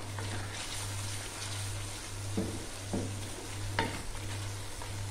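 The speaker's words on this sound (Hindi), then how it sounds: "यहाँ पे हमारा चिकन जो है वो आप देख सकते हैं बहुत अच्छे से फ्राई हो गया है" Chicken fries in a pan with a steady, close sizzle, broken by a few sharp knocks of a spoon stirring, over a low constant hum and no talking.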